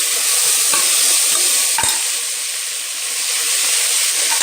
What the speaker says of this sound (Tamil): எல்லாமே போட்டு நல்லா வதக்குறோம்.